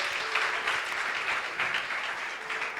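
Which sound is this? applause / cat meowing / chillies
applause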